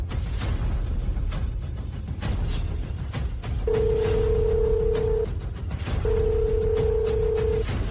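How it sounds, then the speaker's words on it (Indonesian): A telephone ringing in two long electronic bursts against a steady background hum, loud and close, with no one speaking. "Telepon."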